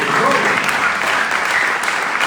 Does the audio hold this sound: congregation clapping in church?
yes